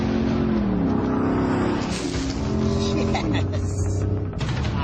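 Ford Raptor truck in GTA IV with all four wheels spinning off-road, engine revving and shifting pitch under a continuous roar, with a voice talking over it.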